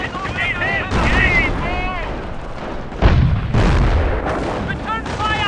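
Battle sounds from the Company of Heroes: Opposing Fronts game, with repeated gunfire bursts and heavy booming artillery rumbling continuously under shouted soldier voices, loud and dense throughout.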